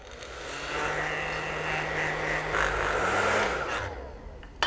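A heat gun runs steadily as it dries a final coat of airbrushed Scale75 paint, a loud continuous blowing whir with a faint whine, held close for several seconds before cutting off.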